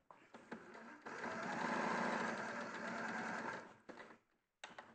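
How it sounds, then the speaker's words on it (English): Domestic sewing machine running a row of basting stitches a quarter inch from the edge, a steady close motor whir with needle chatter lasting about three seconds, framed by brief start-stop bursts. "I'm going to put a row of basting stitch around a quarter of an inch away"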